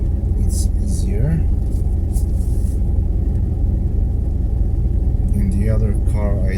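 A car reverses slowly in the dark, its steady low engine rumble and road noise continuous and close throughout, while someone talks over it.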